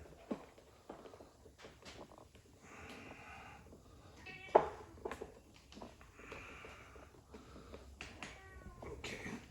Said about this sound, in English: This cat's bugging me.